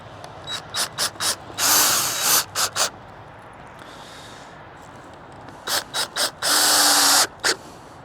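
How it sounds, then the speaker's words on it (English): Screws are power-driven into a wooden shelf on a pineal trade station, with several short drill bursts followed by two longer whirring runs, then a second cluster of brief bursts and another sustained drive, close and fairly loud. "just get some screws and screw it in"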